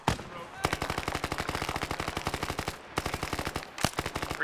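Rapid automatic gunfire in a Vietnam War shooter game, long bursts of sharp, evenly spaced shots with a brief pause midway, loud and close.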